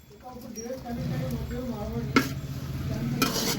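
Seeds stirred into a simmering bajji curry in a pan, with a soft scraping and gentle sizzle that carries on steadily, plus a couple of sharper clinks of the spoon against the pan under quiet talk.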